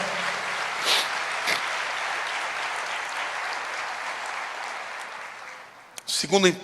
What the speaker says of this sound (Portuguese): Então quando um filho vai, pode aplaudir, porque ele merece.